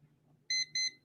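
A household kitchen-style countdown timer sounds its alert: two short, bright electronic beeps in quick succession, clear and close in a quiet room.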